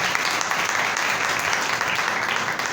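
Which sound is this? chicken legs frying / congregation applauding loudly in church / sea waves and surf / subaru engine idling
congregation applauding loudly in church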